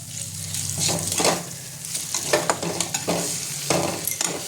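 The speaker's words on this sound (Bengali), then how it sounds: "কাঁচা লঙ্কা দিয়ে একটু নাড়বো, দিয়ে দেবো এবার আমি উচ্ছেটা" Green chilies and bitter gourd stirred in a pan of fried spice paste while cooking a Bengali-style rezala, with a steady sizzle of frying under repeated scraping strokes of the spatula, close and fairly loud, no voices.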